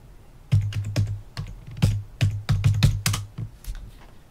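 Password typed on a computer keyboard for a Raspberry Pi login: irregular bursts of close, crisp key clicks with short pauses between clusters, no speech.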